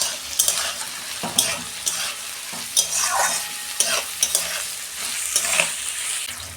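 Sliced onion with green chillies and a little salt frying in a pan for chicken curry, a steady close sizzle broken by repeated scraping stirs of a spatula against the pan.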